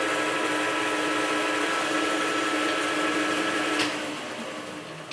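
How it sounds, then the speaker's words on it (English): A lathe or machining tool cuts a circlip chamber into a part from a 1979 Ducati 900 Replica, a steady loud mechanical whine and hum that carries on evenly before easing off slightly near the end. "now up is the final cut we need to do, and that is the chamber for the circlip"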